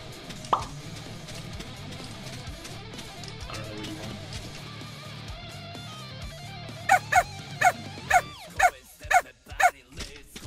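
A demon dog in the game Traitors in Salem gives a run of sharp, evenly spaced barks near the end, close and punchy over a low game-music bed, following a stretch of quieter background.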